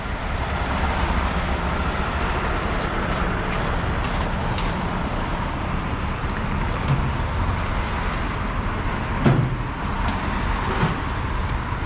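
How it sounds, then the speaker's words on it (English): A construction truck drives down the street with a broad, steady engine and road rumble. It stays close and loud throughout, with no talking. "this construction truck just going right on down, doing his job"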